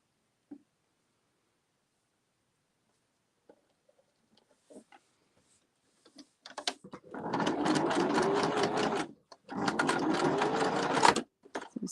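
After scattered faint clicks, a sewing machine whirs up close in two steady runs of a few seconds each, separated by a short pause, as a cross is stitched into fabric for a rustic outdoor table setting.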